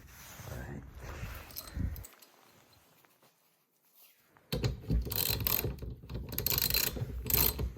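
A nut is threaded and tightened onto the rear wiper arm of a 4th-generation 2003–2009 Toyota 4Runner, with short mechanical clicks and rubbing turns, a quiet pause, then louder close ratcheting handling noise.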